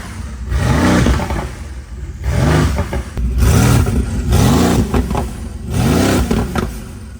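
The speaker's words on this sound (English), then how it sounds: "We want to see how the car sounds with no exhaust at all" A car engine with no exhaust fitted revs repeatedly in four loud bursts, raw and unmuffled, dropping back to a rough idle between each throttle blip.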